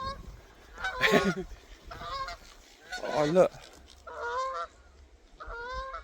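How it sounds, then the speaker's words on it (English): Geese honk loudly and close by as one flies past outdoors, giving several separate honking calls spaced through the moment, with a brief spoken remark between them. "It flew right in front of me, a geese."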